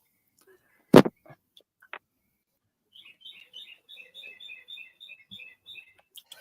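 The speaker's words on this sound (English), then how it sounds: "I hear all those birds chirp, chirp, chirp, chirp, chirp." Small birds chirp in a quick, repeated series of bright tweets, moderately close, after a sharp knock and a few faint clicks, with no talking over them.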